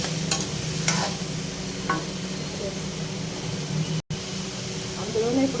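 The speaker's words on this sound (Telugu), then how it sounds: "ఇప్పుడు టమాటా ముక్కలు కూడా వేసుకొని ఫ్రై చేసుకోవాలి" Bottle gourd and tomato pieces fry in oil with a steady, moderate sizzle, broken by a few sharp stirring clicks, while a voice talks faintly over it.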